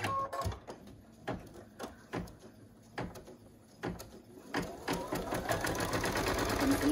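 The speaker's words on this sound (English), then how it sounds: "The first stitch it's going to do is a placement stitch that you know where to put your piece of felt." An embroidery machine sews a red placement stitch outlining where felt goes on a card design, giving repeated mechanical stitching bursts that grow denser and steadier toward the end, with no talk.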